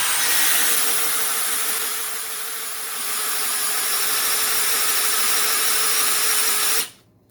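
A DeWalt Xtreme sub-compact 12V brushless drill in low gear boring a 1-inch Irwin ship auger into dry Douglas fir, a steady high whine with grinding bite that holds for several seconds, then stops abruptly.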